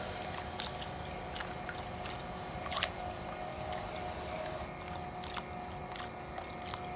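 Water running steadily over the gold sluice tailings outdoors, a constant close wash with scattered wet squelches and drips throughout and no talking.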